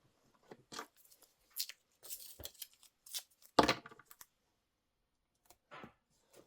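Tape being pulled and pressed to join two pieces of fiberform, a series of quiet crinkly tearing and rustling bursts in irregular spurts with silence between, close and faint.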